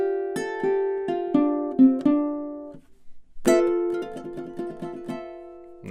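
A ukulele plays a spooky fingerstyle tune's closing phrase: plucked notes ring in a steady run, pause briefly, then a final cluster of bright picked notes follows, close and clear with no talking.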